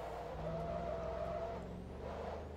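An Audi race car in Forza Motorsport 2 drives with a steady, droning engine while its tires skid and squeal, the sound continuous and close throughout.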